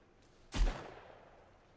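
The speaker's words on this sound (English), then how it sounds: "What is she shooting?" One sharp gunshot in the video game Sons of the Forest, a single loud crack with a short decaying echo, preceded by a faint tick and followed by quiet ambience.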